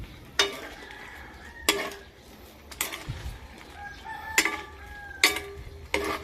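Shrimp cooking in oyster sauce being stirred in a pan, a quiet sizzle under sharp, spaced scrapes and clinks of a spatula, close and intermittent, with no speech.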